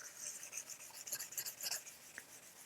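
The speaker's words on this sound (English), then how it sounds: "And then I'll just start working, sanding in the direction of the grain," Steady rasping and rubbing strokes of a sanding block wet sanding an oil-based guitar finish along the grain, back and forth at an even pace, close up and fairly quiet, with no voices.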